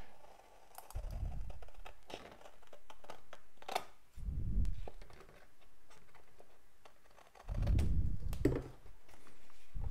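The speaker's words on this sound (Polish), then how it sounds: "Właściwie to sobie mogę go zaokrąglić, mam tutaj nożyczki." Scissors cut a fabric template to round its edges, giving short bursts of snipping and crisp clicks that come in several separate spells with quiet pauses between.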